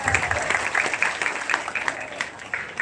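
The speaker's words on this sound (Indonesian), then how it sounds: "Tepuk tangan dulu" A crowd at a pesantren graduation ceremony claps in a steady, dense patter of applause lasting a few seconds, fairly close, with faint voices mixed in.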